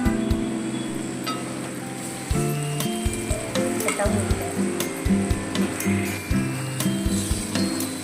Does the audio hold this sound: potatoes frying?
yes